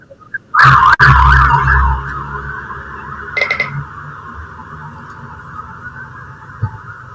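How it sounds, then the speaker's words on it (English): A loud ambulance siren wails suddenly, holds a steady tone, then fades gradually as it moves away; brief low rumbles and a faint tap occur along the way. "We'll hold while the ambulance goes by."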